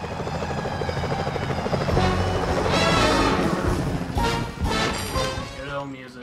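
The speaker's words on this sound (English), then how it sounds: "Those security choppers are bad" Security helicopters in the video game Sly Cooper: Thieves in Time drone with loud, chopping rotor noise that swells to a peak midway before easing off, with game music and effects layered in.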